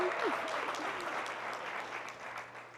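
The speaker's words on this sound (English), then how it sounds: "please give me a big round of applause to Ms. Yolanda Bowman" An audience applauds Ms. Yolanda Bowman at an event, a steady wash of many hands clapping that holds fairly evenly for a few seconds before easing slightly.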